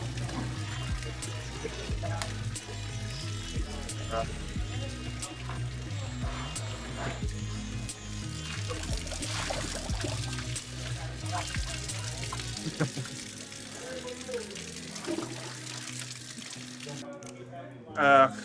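Shower water pours and splashes continuously over a person rinsing off mud after a mud wrestling match, a steady running stream with people talking throughout.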